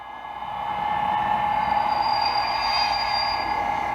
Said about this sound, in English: even out of a relatively low speed drive, it still has a really good brake squeal sound